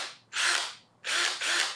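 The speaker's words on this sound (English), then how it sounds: "I got my drill set on 22." Power drill set to 22 spinning a headlight restoration disc on a car headlight, two loud whirring bursts separated by a brief pause, close up and without talk.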